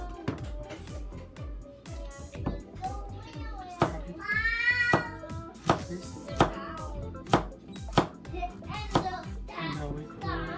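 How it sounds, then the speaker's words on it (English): Knife chopping carrots on a cutting board while preparing ham with celery: a series of sharp, close chops at an uneven rhythm, with a cat meowing and background noise between the cuts. "we cut the carrots"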